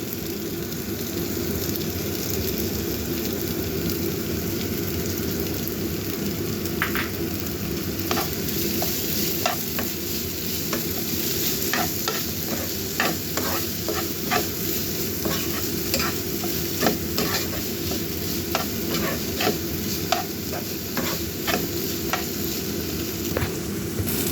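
Chopped spinach stir-fried in a pan for a wonton dish, producing a loud, continuous close sizzle with a dense rain-like hiss and frequent quick scraping strokes of the spatula throughout, with no one speaking.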